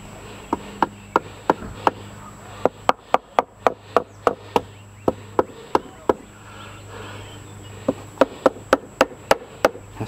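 Hammer blows during furnace and air conditioner repair, a steady run of sharp, loud metallic strikes in quick even series with short pauses between bursts.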